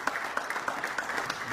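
Brief, moderate applause from a snooker match crowd, a ripple of individual claps with a few sharper ones standing out, fairly close and steady.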